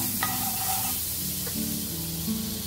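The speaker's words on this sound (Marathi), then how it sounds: "तर आपण याला आता थोडं हलकं हलकं असं पॅन मध्ये शेकून घेऊया। आपल्याला थोडासा परत बटर घालायचा आहे" A frankie roll toasting in butter in a pan gives a continuous soft sizzle and hiss up close, with faint tonal sounds in the background and no speech.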